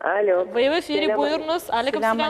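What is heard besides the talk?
No everyday noise stands out behind the speech.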